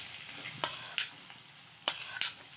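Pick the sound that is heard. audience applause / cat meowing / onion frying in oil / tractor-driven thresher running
onion frying in oil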